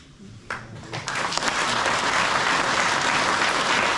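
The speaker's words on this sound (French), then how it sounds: "je vous remercie d'avoir autant applaudi" An audience at a New Year's greetings ceremony in Saint-André breaks into applause after a speech, starting with a few scattered claps and swelling within a second into dense, sustained clapping that fills the room.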